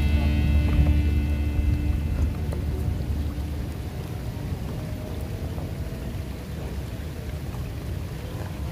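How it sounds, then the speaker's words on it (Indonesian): Rain falls steadily on a bamboo raft on the water during snakehead fishing with a soft frog lure, a constant hiss of drops with a low rumble fading early on. "Hujan lagi, coy."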